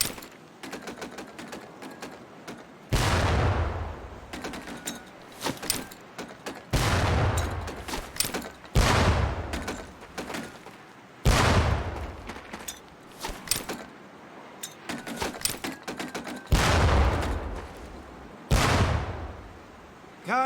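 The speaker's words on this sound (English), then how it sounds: "Pull the pin and let them fly. See if you can hit some of those barrels out there." Training grenades going off one after another in the WWII shooter Medal of Honor Pacific Assault boot camp, several loud booming blasts spaced a few seconds apart, separated by quieter clatter and ambient noise.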